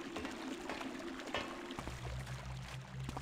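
Flowing water in the Thief Gold video game, a steady pouring stream that runs continuously near the listener, its tone dropping partway through, with no talk over it.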